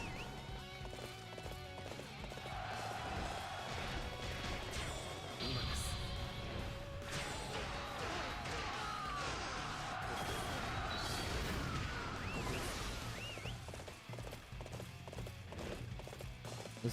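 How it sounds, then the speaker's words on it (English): Horse hooves clip-clop rhythmically during a ride in Dynasty Warriors 8 Empires, mixed with battle clashes, game music and occasional neighs, moderately loud and continuous. "This horse has a mind of its own, I swear."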